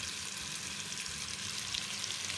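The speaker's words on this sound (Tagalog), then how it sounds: "maglagay po tayo ng konting mantika. At gisahin natin yung bawang." Garlic sautéing in a little cooking oil in a pot for pancit canton, giving a steady, bright sizzle that crackles evenly throughout with no voices over it.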